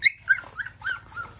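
A puppy whimpering in hot weather, a few short high-pitched whines in quick succession, close and fairly soft.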